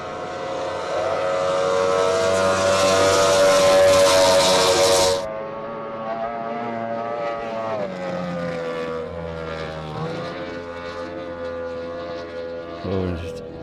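An F1 racing powerboat's engine fires up on Witbank Dam for a time-trial run, a loud broadband roar for the first five seconds that then settles into a wavering, strained drone with shifting pitch, not reaching full revs.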